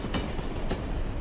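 A train rolling along rails in the Desperados 3 video game, a steady rumbling roar with two rhythmic clacks from the wheels passing rail joints, close and loud.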